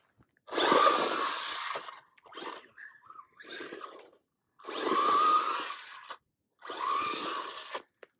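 Motor of an MJX Hyper Go H14BM 1:14 4x4 off-road RC truck revving hard at full throttle in three loud, close bursts of buzzing whine with short silent gaps between them.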